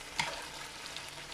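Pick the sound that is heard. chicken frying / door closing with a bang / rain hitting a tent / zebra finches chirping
chicken frying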